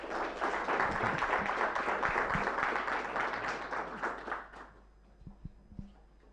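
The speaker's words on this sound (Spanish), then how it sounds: "Bueno, fuerte el aplauso para Valentín." Audience applause at DuraznoConf 2019, a tech conference in Uruguay: sustained loud clapping from a crowd that tapers off over several seconds, leaving a few scattered claps at the end.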